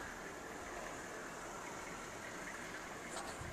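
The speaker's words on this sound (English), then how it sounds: "we got our local snow plow idling." Snow plow engine idling somewhere below during an afternoon snowfall, a steady, faint low rumble under an even hiss of background noise, with no voices.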